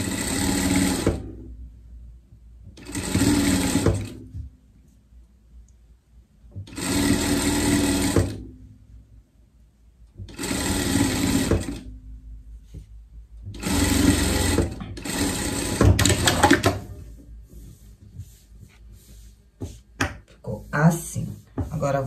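A sewing machine topstitches a folded seam on a Swiss-style pet coat, running close and loud in about six short bursts separated by brief pauses, followed by quieter fabric handling and faint background sounds.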